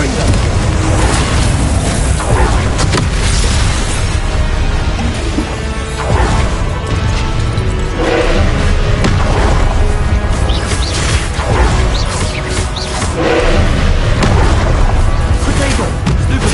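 Loud, continuous game combat from Hogwarts Legacy, with repeated Confringo spell blasts crashing and booming over a dense bed of effects and music, and impacts recurring every few seconds.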